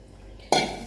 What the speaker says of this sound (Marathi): आता याच्यात साधे पाणी घालूया